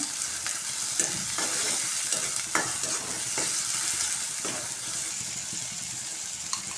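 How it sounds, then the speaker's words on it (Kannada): Finely chopped onion fries in oil for curry leaf dry chicken, giving a continuous close crackle and sizzle with repeated scraping strokes of a stirring spoon throughout. "ಸಣ್ಣ ಕಟ್ ಮಾಡ್ಕೊಂಡಿರೋ ಒಂದು ಈರುಳ್ಳಿ ಇದು ಎಣ್ಣೆನಲ್ಲಿ ಫ್ರೈ ಆಗಲಿ ಚೆನ್ನಾಗೆ"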